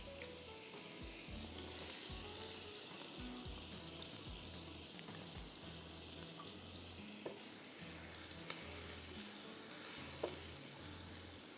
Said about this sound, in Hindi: उस बटर में मैं सब में पहले प्याज डालूंगी 1 कप और साथ में कुटा हुआ लहसुन डालूंगी।